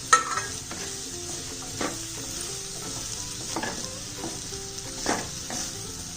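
Chopped okra frying in a pan, a steady gentle sizzle with repeated scrapes and knocks of a stirring spoon at irregular intervals, close and moderately quiet, with no talking.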